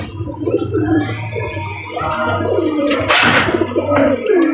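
Pigeons cooing close by in a loft, with repeated low rolling coos over a steady hum and a brief burst of rustling or wing noise, no talking.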